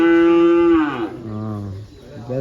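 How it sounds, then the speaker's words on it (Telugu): Buffaloes on a farm bellowing loudly and close by, one long low moo followed by a second overlapping call and the start of another. "గేదెలు అరుస్తూ ఉన్నాయి."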